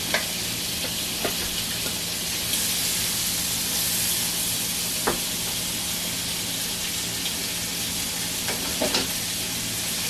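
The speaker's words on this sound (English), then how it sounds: "Now we're putting some butter in here, and we're going to put the shrimp in." Shrimp with garlic fries in butter in a pan, giving a steady, close sizzle with a few soft clicks and stirring sounds throughout, with no talking.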